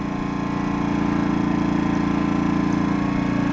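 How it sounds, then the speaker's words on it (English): A small engine, likely a generator, idles on eco mode with a steady, smooth low hum and even rhythm, quiet and constant throughout with no voices. "The engine is running smoothly."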